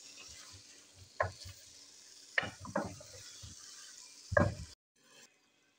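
Boiled peas are stirred and frying in a pan with masala. Soft sizzling runs underneath, broken by a few louder scraping stirs of the spoon against the pan, and there is no talking.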